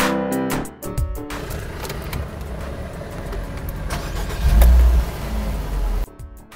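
A Renault Sandero pulls out onto a dealership test track, its engine note rising steadily as it accelerates, with a heavier surge of road noise before the sound cuts off.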